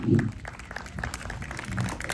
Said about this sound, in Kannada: ಅದು ಬರಲಿ ಇನ್ನೊಂದಷ್ಟು ಚಪ್ಪಾಳೆ